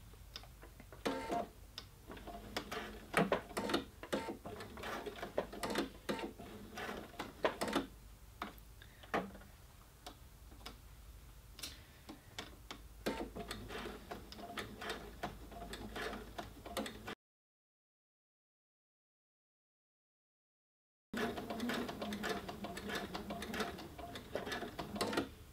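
A sewing machine back tacking the seam of a covered shoulder pad ticks and whirs softly in quick bursts, close but quiet, falling silent for a few seconds before running again.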